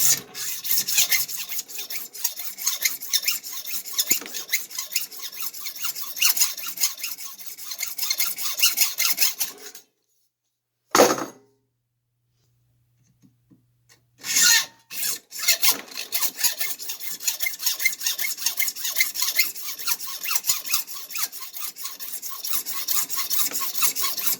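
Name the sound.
hacksaw sawing through pipe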